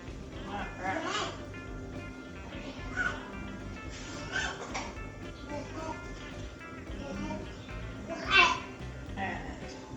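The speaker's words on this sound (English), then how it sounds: "Oh, you can hear my 20-month-old" A 20-month-old toddler babbles in short bursts over a steady room background in a home kitchen, with one louder squeal or cry near the end.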